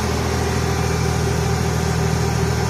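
A combine harvester's engine runs at a steady idle just after starting, a loud, even low rumble with no breaks and no talking.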